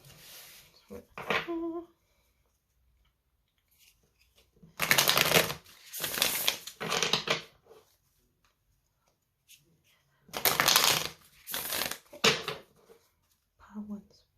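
Tarot and oracle cards being shuffled in several quick riffling bursts, close and crisp, separated by short pauses of near silence.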